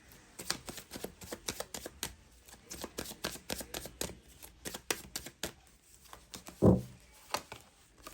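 Tarot cards are shuffled by hand in quick, rhythmic riffling flicks, close and crisp, ending with a single louder thump as the deck is set down.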